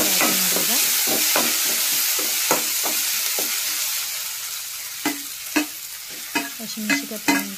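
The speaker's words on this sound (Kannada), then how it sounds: "ಎಲ್ಲಾನು ಕುದಿಸಿ ಈ ಥರ ನಾವು ಫ್ರೈ ಮಾಡಬೇಕು" Tomato and crushed garlic fry in a pan with a loud, steady sizzle that fades a little midway, while a spatula scrapes and knocks in a repeated stirring rhythm, sharper toward the end.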